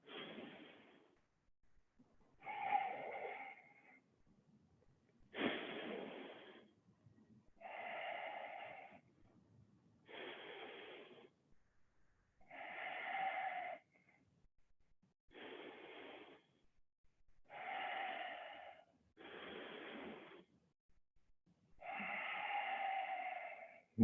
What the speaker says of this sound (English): You're gonna do a 4-second inhalation, 4-second exhalation.